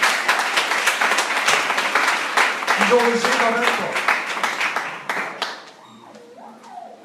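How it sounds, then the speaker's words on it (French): A church congregation applauds the musicians, dense clapping for about five seconds that thins and fades as a pastor starts speaking over it. "on peut les applaudir"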